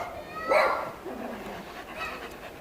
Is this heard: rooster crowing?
no